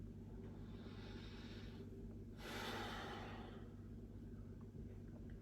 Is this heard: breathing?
yes